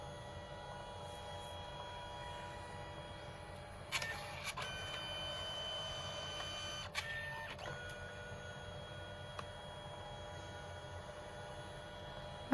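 Canon Selphy CP1300 compact photo printer running a print pass, giving a steady mechanical whir with a low hum, broken by a few brief louder clicks and motor shifts partway through; no talking.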